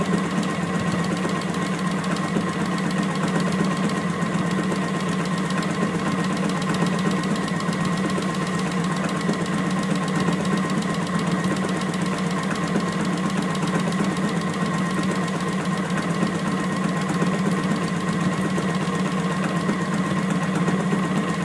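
A JUKI sewing machine runs steadily while stitching fabric around a curve, giving a continuous, close, mechanical hum with a rapid even needle rhythm and no talking over it.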